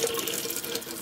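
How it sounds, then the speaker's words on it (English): Water running steadily through a Kangen SD501 water ionizer during cleaning, a continuous close splashing flow like a tap filling a sink, with no talk. "I'm gonna run it again, just in case my filter dried out"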